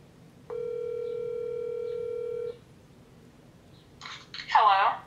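Telephone tones on a call-in show: a steady two-second dial or ring tone, then a short burst of dialing beeps and a brief bright ringing chirp, with faint background hiss and no talk.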